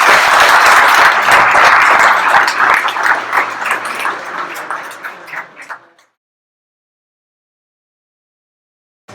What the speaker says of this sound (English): a huge warm round of applause for Dee